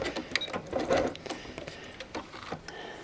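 A sewing machine hems fleece for a ring sling, giving a faint, close whir in short, uneven bursts for a few seconds with no talk.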